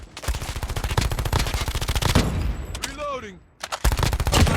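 Rapid, loud bursts of Switchblade X9 submachine gun fire in Call of Duty Mobile pound in a fast rhythm, pause briefly amid ringing game effects, then resume in close, dense volleys.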